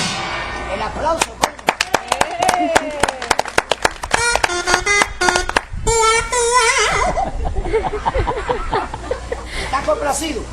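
A novelty sound machine plays back a canned applause track, sharp clap-like bursts and crowd noise mixed with laughter-like sounds, loud and close, with someone speaking over parts of it.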